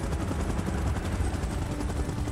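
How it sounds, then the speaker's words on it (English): A helicopter in a video game, a continuous rotor and engine roar at moderate level with a dense rumbling texture, no voices over it. "Chopper in position."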